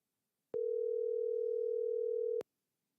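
A steady telephone dial tone sounds alone for about two seconds while a call is placed to a sports guest, beginning and ending abruptly with a click, clear and close.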